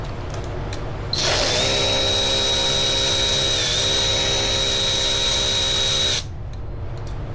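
Power tool removing a bolt, one sustained high whine of about five seconds with a slight dip in pitch midway, loud and close, then stopping abruptly.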